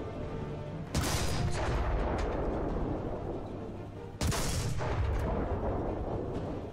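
Two heavy cannon blasts from an autoloading Japanese Chi-Ri II tank in War Thunder, about three seconds apart, each a sudden loud boom followed by a long rumbling decay over steady engine drone.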